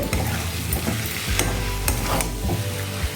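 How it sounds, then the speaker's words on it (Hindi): Garam masala and sugar are stirred into sabzi frying in a pan, with a steady sizzle under repeated scraping strokes of a spoon, close and fairly loud with no talking. "अब हम इसमें डालेंगे 1 टीस्पून गरम मसाला और ½ टीस्पून चीनी और अच्छे से मिक्स करेंगे।"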